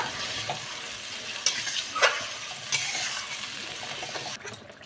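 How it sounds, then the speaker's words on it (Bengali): Spice paste stirred with water in a hot pan, a continuous sizzle broken by a few sharp scraping strokes of the spoon, close and fairly quiet, with no talk. "খুব ভালো করে মশলাটাকে নাড়াবো বন্ধুরা"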